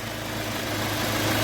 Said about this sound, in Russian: Верхний натяжитель у нас тарахтит.